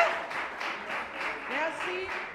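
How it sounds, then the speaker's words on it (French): Applause from an audience at a French-language student competition event, with a broad wash of clapping running throughout and faint voices underneath. "On les applaudit, s'il vous plaît"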